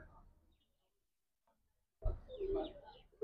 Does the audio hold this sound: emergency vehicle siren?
no